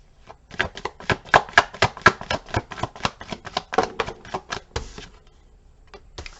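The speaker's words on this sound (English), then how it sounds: "let's shuffle this wonderful Crow Tarot" Crow Tarot card deck being shuffled by hand, a rapid run of crisp riffling card slaps close up, then a pause and a couple of final taps, with no talk.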